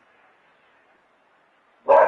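A single loud, close dog bark bursts out abruptly at the very end, after a stretch of near silence with only a faint murmur.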